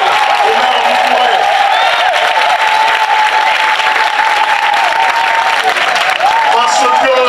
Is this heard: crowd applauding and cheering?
yes